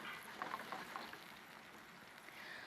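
About a cup of crisp white wine, such as Sancerre or Pinot Grigio, bubbles and hisses softly in a hot pan with chicken, a faint, even fizz that holds steady and slowly tapers.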